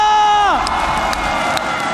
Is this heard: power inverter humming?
no